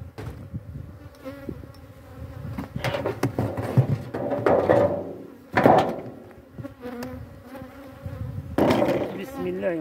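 Bees buzz around an opened hive during a colony inspection, a continuous close drone that swells and fades, with knocks of frame handling and someone speaking intermittently.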